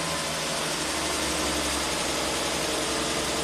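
Engine of a 1967 Triumph GT6 running steadily at raised revs above idle, a continuous close, loud mechanical drone with a faint rattle and no pauses.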